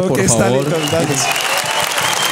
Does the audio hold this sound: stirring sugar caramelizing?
no